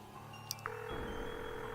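A telephone keypad being dialed in the video game Buried Stars, with a couple of faint beeps followed by a steady electronic tone that continues under a soft background hum.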